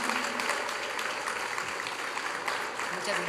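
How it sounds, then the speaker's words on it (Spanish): Audience applause for a doctor after her talk at a book presentation on women and mental health, a dense steady patter of clapping under a voice speaking. "vamos a dar un fuerte aplauso a la participación de la doctora Alejandra"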